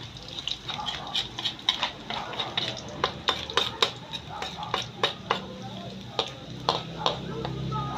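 Onion and ginger sauté in a pan with a soft sizzle while a utensil scrapes and taps against the pan in repeated close strokes, with a voice faintly present in the background.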